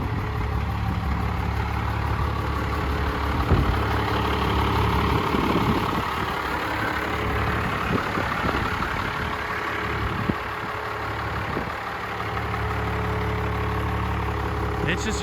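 A 1997 12-valve, 6-speed pickup truck with a 3-inch exhaust idles with a steady low rumble throughout, fairly quiet, while people talk faintly over it.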